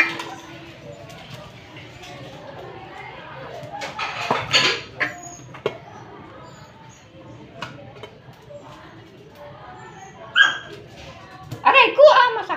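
Two hungry puppies at dinner time yip, whimper and bark in short bursts, loudest near the end, while a person talks over them indoors.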